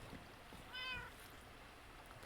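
In a video game, a cat meows once, a single faint, tonal meow in a quiet underground area, set against a soft hiss of ambient game sound and a trickling background.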